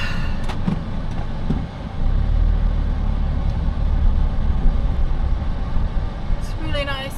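A van crawling through soft sand in four-wheel drive, its engine a steady low rumble throughout, with a voice speaking over it near the end.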